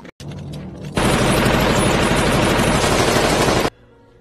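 Loud, sustained burst of automatic machine-gun fire in a heist film scene from The Italian Job, a dense rapid stream of shots lasting nearly three seconds after a brief lead-in, then cutting off abruptly.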